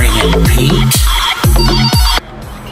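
A telephone rings in an animated short, loud and close, with several repeated ring bursts in an even rhythm before cutting off abruptly.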